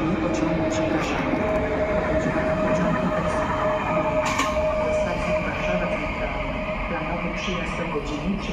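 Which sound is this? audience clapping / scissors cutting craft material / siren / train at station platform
train at station platform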